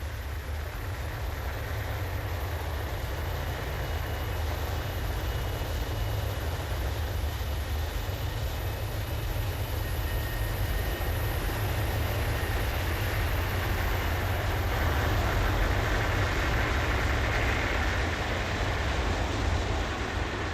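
An aircraft engine roars steadily and loudly while the plane runs up before takeoff, a dense, unbroken drone that swells slightly toward the end, with no talking.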